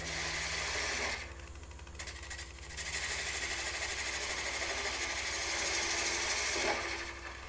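A wooden Easter egg being turned on a wood lathe, with a steady motor hum and the rasping whir of a tool cutting the spinning wood, close and continuous, with cuts starting and stopping.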